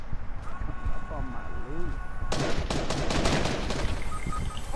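Shotgun blasts in an online multiplayer shooter game, a rapid burst of loud sharp reports starting midway and repeating for a couple of seconds, with a player's voice talking over the action.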